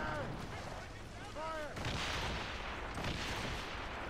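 Heavy ship cannons boom in a naval battle video game, firing in rough bursts of broadband blasts with rumbling decay, a voice faintly audible early on.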